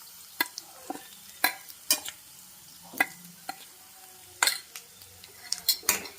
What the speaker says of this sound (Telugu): ఒకసారి మొత్తం కలుపుకుందామండి.